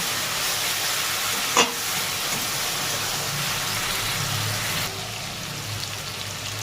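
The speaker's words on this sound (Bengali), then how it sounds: "এরপর দিয়ে নেবো আদা পেস্ট করা আর টমেটো গ্রেট করা একবার দিয়ে দিচ্ছি সব দিয়ে ভালো করে কষিয়ে নেব" Ginger paste and grated tomato sauté in a hot pan with a loud, steady, close sizzle like heavy rain. A single clack of the spoon sounds early on, and the hiss drops slightly near the end.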